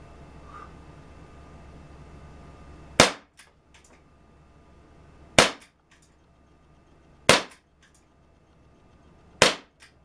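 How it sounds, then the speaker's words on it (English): A Crosman Vigilante air pistol fires four sharp, loud pops, each followed by a short echo. The shots are spaced a couple of seconds apart, with quiet in between. "Crosman Vigilante. That's what's firing it now."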